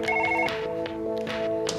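Electronic ringing from a telephone in the Surgeon Simulator video game, several repeated tonal bursts in quick succession, clear and fairly loud over a faint background.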